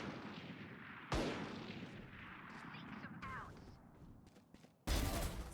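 Gunfire in the video game Valorant, with sudden sharp bursts near the start and end over a dense background of match noise, while commentators talk throughout.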